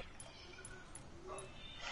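A dog gives a few faint, high whimpers and short yips, heard at a distance under quiet room noise.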